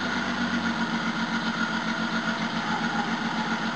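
A Jaguar XJ12 V12 idles while still cold, a steady close rumble with an uneven, lumpy pulse suggesting some cylinders misfiring, continuous and unbroken with no speech.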